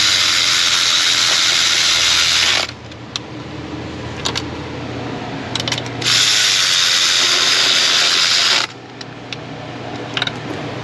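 A ratchet wrench turns the engine bolts on a Ford F-150 with the 5.4 three-valve engine, giving two long loud bursts of rapid clicking separated by quieter stretches with a few sharp metallic ticks.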